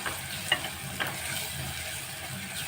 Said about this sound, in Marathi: आणि आता चांगला परतून घेऊया